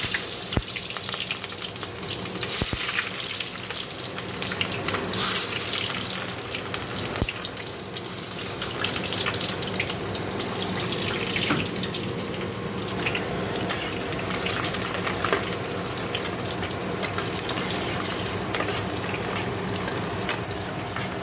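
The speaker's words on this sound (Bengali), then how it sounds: "এখন দেখো কোনো ফোড়ন দিয়ে দেবো, গোটা গরম মশলা, শুকনো লঙ্কা, জিরে।" Whole garam masala, dried red chili and cumin frying in hot oil, an even, crackling sizzle that runs on at length, close and steady, with a few scattered sharp pops and ticks.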